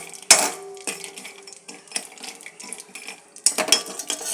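Peanuts roast in a pan while being stirred, metal spoon scraping and clinking against the pan in scattered sharp taps and rattles, close up and moderately quiet, with no talk.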